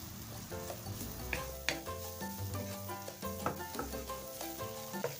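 Garlic and ginger powder being stirred through hot oil in a frying pan: a steady close sizzle with repeated scraping strokes of a spatula and light clinks against the pan, no voices.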